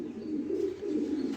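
Racing pigeons giving low rolling coos close by, two swelling calls in quick succession, clear and alone with no talk.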